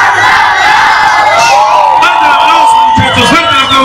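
Party crowd at a fourth-anniversary toast in Quilehtla, Tlaxcala, shouting and whooping loudly and continuously, a dense roar of many voices close by with cries rising over it.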